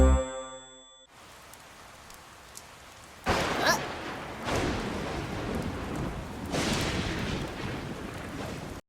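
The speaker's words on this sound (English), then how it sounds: "It started to rain on Pinkerton's picnic." Steady rain falls in a thunderstorm, spreading into a broad close hiss, with heavy rumbles of thunder swelling partway through and again near the end after a brief tone at the start.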